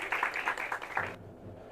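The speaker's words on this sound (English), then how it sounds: "Can you give her a round of applause?" Applause from the audience at a county school board meeting, a short burst of clapping for about a second that cuts off abruptly, leaving quiet room tone.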